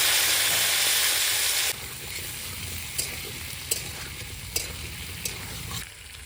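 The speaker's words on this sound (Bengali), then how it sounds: "আলু একটু ভাজা ভাজা করে নেব।" Potatoes fry in a pan with a loud, dense sizzle that drops to a softer crackle. Sharp spatula clicks and scrapes come at a steady pace.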